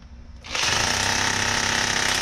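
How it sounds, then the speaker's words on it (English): A power drill making a hole during electrical wiring work for a hot tub sub panel, starting abruptly after a faint lead-in and running as a loud, close, continuous grinding whir for about two seconds. "grab the drill, make my next hole"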